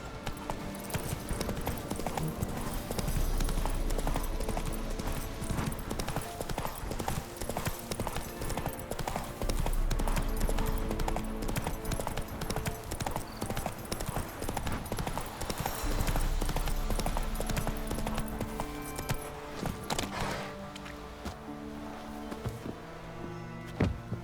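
A horse's hooves clip-clop in a steady rhythm as it is ridden through The Witcher 3: Wild Hunt. The hoofbeats stay close and continuous over game music and ambience, and a voice speaks briefly.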